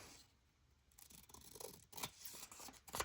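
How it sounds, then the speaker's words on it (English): Scissors snip through scraps of book-page paper for a junk journal, a few close, crisp cutting and rubbing sounds building toward the end, quiet overall with no talk. "Cut it off."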